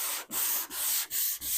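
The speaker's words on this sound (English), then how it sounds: "get that sandpaper ready to go" Car body panel sanded by hand with sandpaper, a loud, steady rasping scrape in four long back-and-forth strokes separated by brief pauses, heard alone and close.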